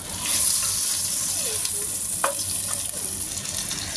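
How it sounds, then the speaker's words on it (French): Onion, garlic cloves and herbs sauté in a pan for ratatouille, giving a steady close sizzle and frying hiss throughout, with a few brief stirring scrapes and no talk. "Vous mettez l'oignon avec les gousses d'ail, les herbes, et vous allez faire revenir tout ça."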